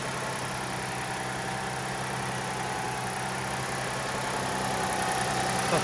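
The 2.5-litre V6 engine of a 2007 Lexus IS250 idles steadily, a smooth continuous hum heard close up with no talking.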